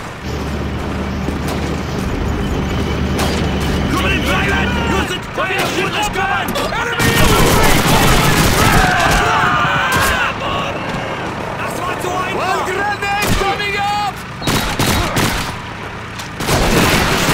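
Gunfire and explosions fill a Call of Duty 2 battle, loud sustained volleys and booms running throughout while voices shout over the din.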